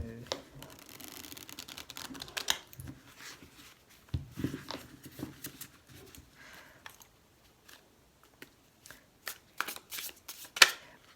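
Dark Mansions Tarot cards shuffled by hand in a series of soft riffling bursts with a few sharper snaps, close and fairly quiet, with no talking over them.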